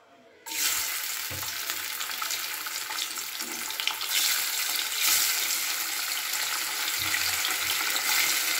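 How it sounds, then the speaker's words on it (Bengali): Small amudi fish frying in hot oil, a steady loud sizzle that starts abruptly and holds dense and continuous, with a few soft clinks of a utensil beneath it and no talking. "এবার তেলের মধ্যে আমি আস্তে আস্তে মাছগুলোকে ভেজে নেব।"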